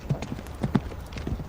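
A ridden cavalry horse carrying a rider with a kite shield clip-clops at a quick, uneven gait, close and fairly loud hoofbeats alone without speech.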